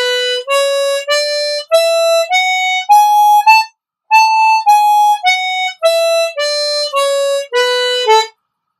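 Ascending then descending major scale on a chromatic harmonica using blow and draw notes with the slide, about sixteen clean sustained notes at a steady pace, played solo with a short pause at the top.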